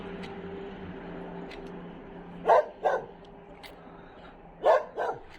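Dogs bark a few times in two pairs of sharp barks, moderately near, over a quiet background hum, during rooftop repairs.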